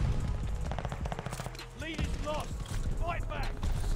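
Heavy automatic gunfire in Call of Duty Vanguard, using a Type 100 submachine gun class setup. Fast shots rattle continuously under a player's excited talking.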